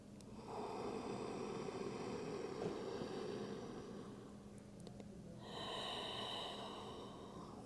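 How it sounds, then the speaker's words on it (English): Slow, deep breaths during a yoga posture, with a long steady exhale followed by a broad airy inhale, close and fairly loud over a faint low hum. "One more breath"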